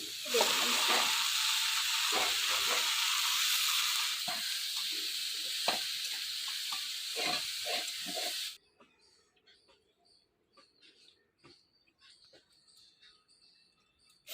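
Vegetables and spinach fry in a pan with a loud, steady sizzle and hiss broken by stirring scrapes, then the sizzling cuts off abruptly and only faint clinks remain.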